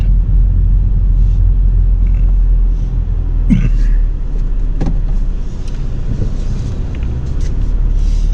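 A car reverses into a shaded parking spot in the Deep South, heard as a steady, loud low engine and road rumble from inside the cabin with a few faint clicks.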